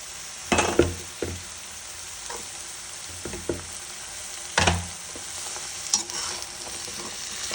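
Chopped bottle gourd hits browned onions in a hot pan, sizzling steadily while a spoon stirs, giving several sharp scraping bursts and clatters against the pan; nobody speaks.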